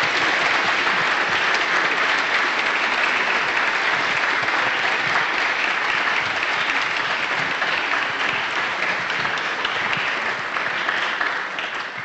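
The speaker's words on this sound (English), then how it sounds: "let's give a round of applause to new president, Dr. Don Bobbitt." A large audience applauds a newly introduced university president after a higher-education talk, sustained, even clapping that fills the room for about twelve seconds before beginning to taper.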